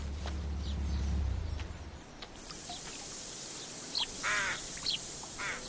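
Harsh cawing calls from a rook ring out a few times over quiet outdoor ambience, following a low rumble at the start.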